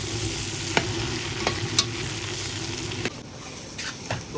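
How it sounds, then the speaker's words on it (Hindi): Okra (bhindi) frying in a pan for bhindi gosht, a loud steady sizzle broken by a few sharp utensil knocks and scrapes against the pan, with no talking. "भिंडी को आपने बहुत ही अच्छे से फ्राई करना है।"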